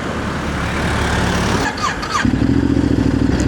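A brand-new 2025 Ducati Desert X Rally motorcycle with zero mileage idles loudly up close, then revs and settles into a steady, throbbing engine note for the final second.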